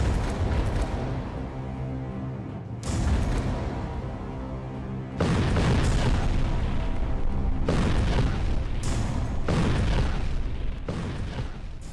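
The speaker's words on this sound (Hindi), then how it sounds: "और फिर सामने रखी 7 मीटर चौड़ी कंक्रीट की दीवार पर यह धमाका करता है।" A test bomb detonates against a 7-metre-thick concrete wall. Heavy, broadband blast roars fill the stretch, with several sharp onsets of loud rumbling booms that sustain without pause and have no speech over them.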